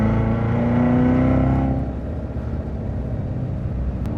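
Chevrolet Corvette Z06 in Track mode, its engine droning loud and steady from inside the car, the pitch rising then settling into a rougher, lower roar.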